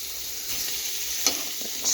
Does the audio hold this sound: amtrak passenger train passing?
no